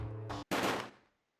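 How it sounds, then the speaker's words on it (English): Gunfire in the video game Code: Realize, two sharp, loud blasts in quick succession separated by a brief silence, the second trailing off in a fading echo. "the many Finis's gunshots ring out"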